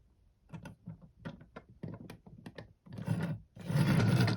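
A small Transformers Generations Scoop toy in tractor mode rolls across a surface, making faint, close plastic rattling and rubbing in short bursts that build into a longer scraping roll at the end.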